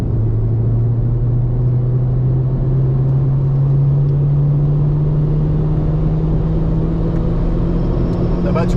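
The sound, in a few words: race car accelerating again out of a corner on circuit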